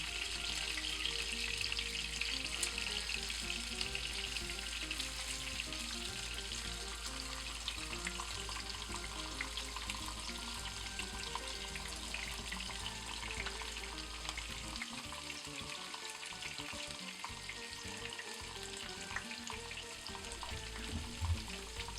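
Onion frying in a pan alongside seared steak, a steady loud sizzle running unbroken for the whole stretch with faint stirring and a brief dip in the low rumble partway through.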